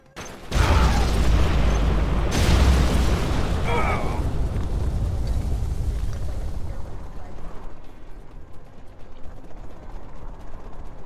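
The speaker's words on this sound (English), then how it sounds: "a Scud storm has been launched." A Scud Storm missile strike in Command & Conquer: Generals: a loud booming blast erupts, followed by a second impact, then a long rumbling roar that slowly fades.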